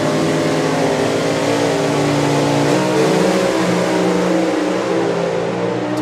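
Screw-blown Hemi engines in a dragster and a funny car rev hard side by side at a drag strip, a dense, very loud roar holding steady for several seconds with a slight pitch rise midway.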